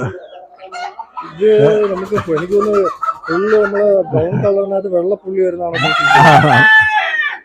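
Spotted native chickens on a Kerala backyard farm crow and cluck close by, a long crow building to a loud, shrill burst near the end, with someone talking over the birds throughout.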